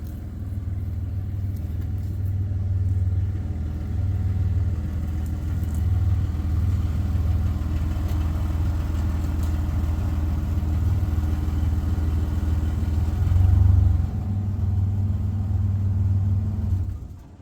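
Engine of a Dodge Dakota pickup truck running steadily as it is turned around, a continuous low rumble and idle drone, loud and close, with a brief swell near the end before it cuts off.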